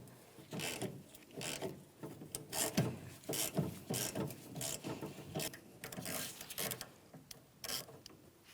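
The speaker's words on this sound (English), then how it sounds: "Let's use a 10mm to remove our mounting bolt. Just going to work this back and forth since it is extremely rusted." A ratchet with a 10mm socket works back and forth on an extremely rusted mounting bolt while a coolant reservoir is replaced on a 2007-2014 GMC Sierra 2500 HD, giving bursts of close, repeated mechanical clicking with no talk.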